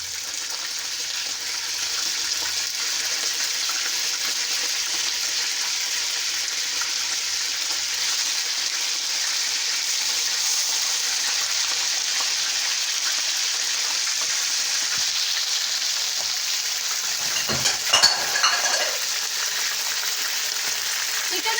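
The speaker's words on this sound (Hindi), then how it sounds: "अब हम इसमें चिकन ऐड करेंगे और इसे अच्छे तरीके से फ्राई करेंगे।" Chicken frying in a pan with browned garlic gives a continuous bright sizzle throughout, with a short louder clatter of stirring near the end and no voices.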